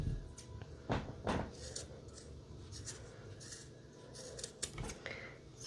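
Scissors trimming a blue thread tassel for a planner, several crisp close snips spread irregularly over a quiet background with light handling rustle.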